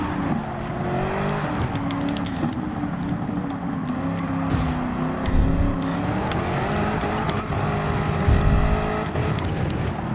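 A race car in Gran Turismo 7 drives hard through corners, its engine droning and rising and falling in pitch as it accelerates and brakes, with brief tire noise, loud and continuous with no speech.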